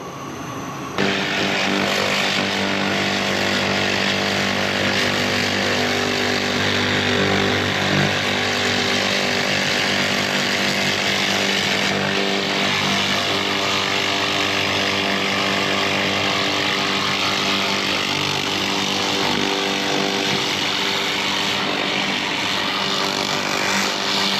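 A laser cleaning machine strips rust from an old cast iron manifold, producing a loud, steady buzzing drone with a constant mechanical hum that runs unbroken for the whole stretch, with no voices.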